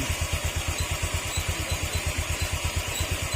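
A Honda Click 125 scooter engine with a suspected engine fault idles close by with a fast, even putter, its low rhythmic pulses steady throughout and no voices.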